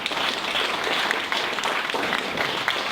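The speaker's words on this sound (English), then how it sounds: "Let's give Dave a big round of applause." A room of attendees at a mobile technology meetup applauds a speaker, producing a dense, continuous burst of clapping that stays fairly loud and even from start to finish, with no voices on top.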